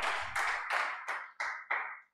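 Audience applause greeting an arriving guest, a retired army captain, at a classroom-style event: a short run of dense hand clapping in several swelling bursts, loud and close, fading out after about two seconds.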